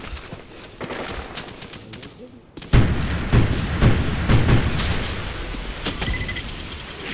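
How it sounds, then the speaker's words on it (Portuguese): Rapid bursts of gunfire and heavy booms from an enemy airstrike in Call of Duty 4: Modern Warfare, loud and dense, continuing after a brief quiet moment. "Enemy airstrike inbound."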